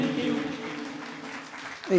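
Scattered audience applause follows a Bollywood oldies song at a live music academy show, thin steady clapping with a voice speaking over it near the end.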